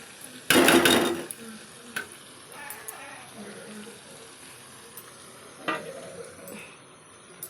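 A masala with cumin paste and ginger paste fries in oil and gets stirred: one loud burst of sizzling, then a soft crackle with the occasional scrape of a spoon against the pan.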